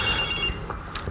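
A telephone rings briefly and close, one short electronic ring that fades into a soft room background.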